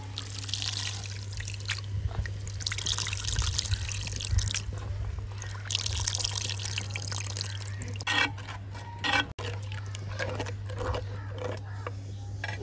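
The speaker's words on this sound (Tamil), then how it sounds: "போடுறேன் புளி கரைச்சதை" Dissolved tamarind water poured into a ribbon fish curry cooking without coconut, a steady trickling and splashing over a constant stove hum, with a brief pause near the end.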